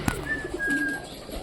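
Pet pigeons coo once nearby, a soft throaty call after a brief tap, heard alone in a quiet room.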